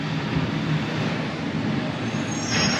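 A loud garbage truck rolls down a residential street, a steady heavy diesel rumble with broadband road noise that swells slightly near the end.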